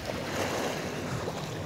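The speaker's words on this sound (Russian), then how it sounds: "Вот такое ласковое, теплое, классное море." Gentle Black Sea waves wash onto a beach near Sochi in September, a soft continuous surf hiss with light wind, fairly quiet and without voices.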